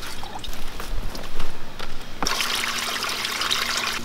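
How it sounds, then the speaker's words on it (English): Water trickles and then gushes into an alligator snapping turtle's tub, a steady rushing pour that grows fuller and louder halfway through, with no one talking. "Sometimes you just fill in water."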